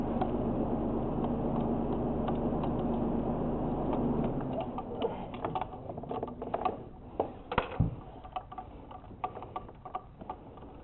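Ratchet fitted with a swivel wobble extension working loose the spark plug bolts on a Kia Sorento, a quick series of close metallic ticks and clicks over a low steady hum that drops away midway.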